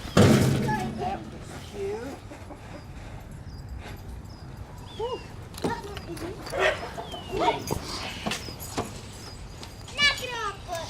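Dogs bark and whimper around an open desert property, scattered yelps and whines at close to medium range, mixed with people talking and other outdoor noise.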